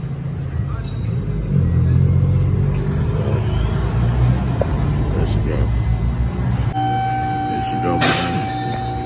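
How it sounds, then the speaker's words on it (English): A Dodge Charger RT with its mid muffler deleted and straight-pipe exhaust idles with a deep, loud rumble, then the engine note drops away and a steady tone follows. "Getting a mid muffler delete, y'all. Give her a little more noise, more aggressiveness."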